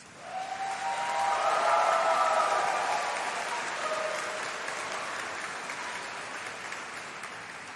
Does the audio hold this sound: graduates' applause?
yes